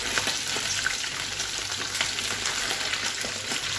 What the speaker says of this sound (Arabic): نبتدي بقى نقلب كده.